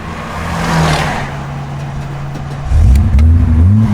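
A BMW E30's engine catches and settles into a steady idle, with harmonic tones rising near the end as it fires up louder and closer; no speech is heard.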